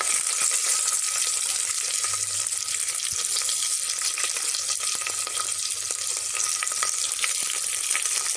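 Onions, curry leaves, garlic and green chillies fry in a pan with a constant, bright sizzle and a few faint scraping stirs, close and steady throughout with no voices.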